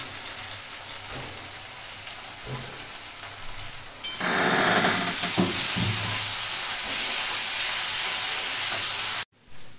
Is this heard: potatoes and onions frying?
yes